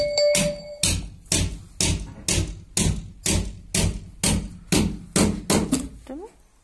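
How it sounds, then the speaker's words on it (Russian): A large nail being hammered into wood, with about a dozen loud, close, evenly spaced blows landing roughly twice a second; a brief tone rings at the start. "О, ты соединяешь большим гвоздем."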